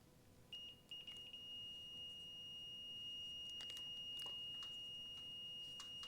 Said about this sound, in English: I'm hoping you can hear the beeper.